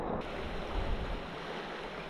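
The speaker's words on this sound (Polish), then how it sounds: "Przepiękny teren, piękne strumyki, piękne potoczki." A mountain stream flows in a continuous, broadband rush of water, steady and moderately loud, with a low rumble and faint wind on the microphone, and no voices.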